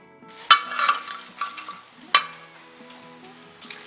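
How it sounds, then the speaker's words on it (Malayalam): Spicy diamond-cut snack pieces frying in hot oil, a soft continuous sizzle broken by a few sharp clinks from a utensil stirring the pan, close and with no talk. "ഫ്ലെയിമിൽ കൂടെ കൂടെ ഇളക്കി കൊടുത്ത് ഫ്രൈ ചെയ്തെടുക്കണം."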